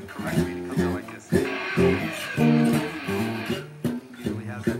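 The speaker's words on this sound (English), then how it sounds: "You have to do a pick slide correctly and it comes out like this." Distorted electric guitar notes with a scraping pick slide rising through the middle, loud and close, ending in choppy chords.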